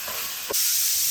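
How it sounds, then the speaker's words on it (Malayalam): A pressure cooker steaming pork for a Kerala-style pork fry lets out a loud, steady whistling hiss, with a short thump partway through. "അങ്ങനെ കുക്കറിൽ 3ാമത്തെ വിസിലും വന്നു കഴിഞ്ഞു."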